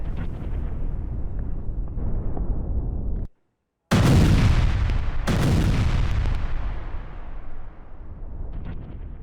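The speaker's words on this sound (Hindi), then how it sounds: "किस तरह से देखिए बमबारी की जा रही है।" Israeli airstrikes strike Beirut's Dahiyeh area, with missiles hitting among houses. Heavy explosions boom and rumble with long decaying roars, one after another, a sudden silent gap, then two more loud blasts close together.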